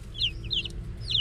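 Young ulikba native chicks give three short, high-pitched peeping calls close by, spaced about evenly over a low background hum.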